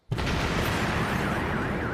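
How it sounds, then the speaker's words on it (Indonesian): Car blowing up in an action film scene: a sudden loud blast that erupts abruptly and rolls on as a sustained, dense roar of burning and debris. "Dan tak lama, mobil yang dipakai Jekyll tadi juga meledak."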